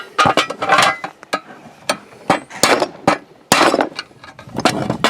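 A metal knockout is punched from an electrical outlet box for an RV power hookup: a series of sharp, close metallic hammer strikes and clinks in an uneven rhythm, with brief pauses between blows.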